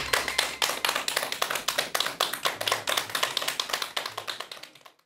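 An audience claps to welcome a professor's lecture on near-death experiences, the claps landing in a quick, even rhythm before tapering off and fading out at the end.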